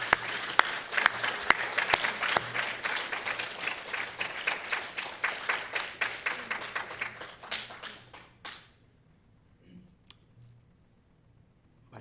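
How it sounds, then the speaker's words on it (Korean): A church congregation claps together in a rhythmic burst for about eight seconds, loud and close, then it fades out and a few stray claps follow in near quiet. "한번 우리 박수 한번 올려드리겠습니다."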